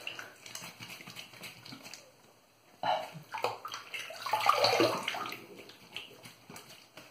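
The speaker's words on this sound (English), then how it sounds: "Let me rinse up and go for a second." Running water from a tap splashes and gurgles as a shaving razor is rinsed under it, loud and close, with bursts of splashing and a brief quiet stretch in the middle.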